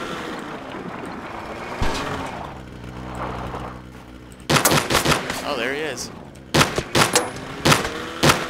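Gunfire in Ring of Elysium rings out in sharp bursts of rapid shots during the second half, loud and close, after a stretch of steady snowmobile engine drone with a voice speaking briefly.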